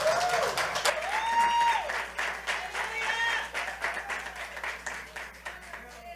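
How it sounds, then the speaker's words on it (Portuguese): Church congregation standing and applauding to welcome an evangelist, dense clapping with cheers and a voice calling out over it, ringing tones and music beneath, fading and swelling. "me ajude a receber o evangelista Geraldo com um aplauso ao Senhor"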